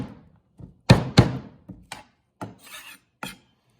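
Garlic cloves being crushed for a steak salad, giving several sharp, close thuds and raspy crunches at uneven intervals with short pauses between.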